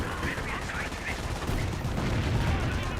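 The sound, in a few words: artillery barrage in the video game Company of Heroes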